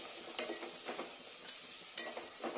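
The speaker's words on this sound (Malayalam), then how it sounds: "സവോള നന്നായി വഴണ്ട് വരണം." Sliced onions and four green chillies sautéing in oil in a pan for a village-style colocasia stem thoran, with a steady sizzle broken by a few sharp scrapes of stirring, close and alone.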